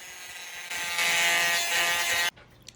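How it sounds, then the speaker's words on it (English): A Dremel rotary tool grinds down thick bonsai plant branches with a close, steady high-pitched whine that rises in intensity midway, then cuts off abruptly, leaving a faint click. "I ended up using a Dremel to file down some of the bigger parts of the plant"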